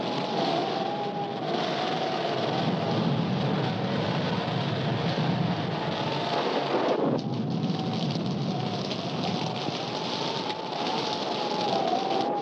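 Heavy thunderstorm in a 1943 American mystery film: steady loud rain with rolling thunder rumbling throughout, a continuous dense wash of storm noise with no voices.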